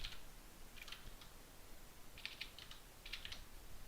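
Keys on a computer keyboard clatter in short, quiet bursts of light taps with pauses between them, with no voices.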